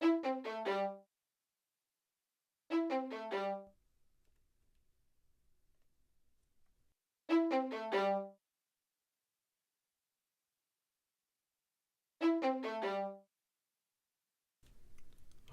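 An R&B sampler phrase run through flanger and phaser effects: four short, quiet bursts of rapid descending notes separated by long gaps of near silence, followed by a faint rumble at the end. No voices.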